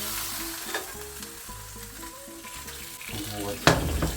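Lavash with chicken frying in a pan, a steady crackling sizzle that surges into a louder hiss near the end.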